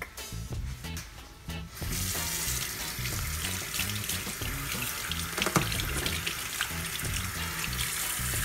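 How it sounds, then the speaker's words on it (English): Tap water running into a sink while hands are washed in a home kitchen, a steady close splashing rush that swells louder after a couple of seconds and continues unbroken. "We're gonna wash our hands and clean our work."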